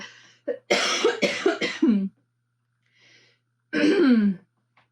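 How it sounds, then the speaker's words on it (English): Several harsh, close coughs in a quick burst, a pause, then one more loud cough after a faint breath. "I've got this cough going on still"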